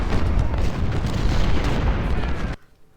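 Artillery fire in the Ultimate General: Civil War game hammering an enemy line, a dense rolling rumble of booms that runs loud for about two and a half seconds, then cuts off to near silence.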